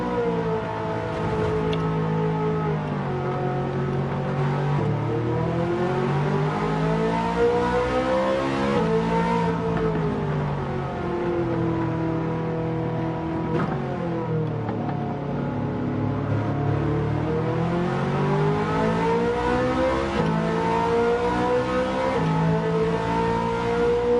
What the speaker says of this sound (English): Try not to rev it too much.